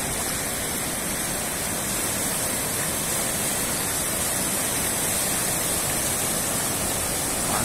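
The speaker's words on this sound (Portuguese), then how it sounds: "Fica escutando um pouquinho desse barulhinho do mar, ó." Sea waves wash onto the beach at Praia Grande, Canto do Forte, on the São Paulo coast, a steady, broad, hissing roar of surf, continuous and fairly loud with no talk.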